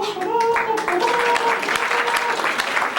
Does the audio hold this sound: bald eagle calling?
no